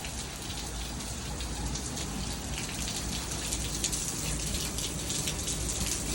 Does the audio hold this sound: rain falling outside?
yes